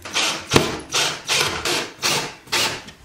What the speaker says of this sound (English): Pre-drill your holes and then hammer your anchor in.